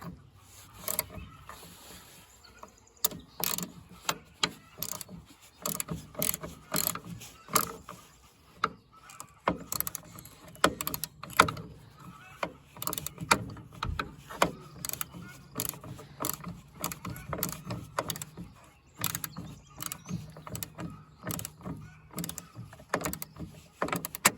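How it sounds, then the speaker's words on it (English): Bolts being worked loose from a car's air cleaner mount, with dense irregular metallic clicks, ratcheting and clanks of tools up close, rising and falling in bursts throughout without any talking. "I got those two bolts off of the air cleaner mount"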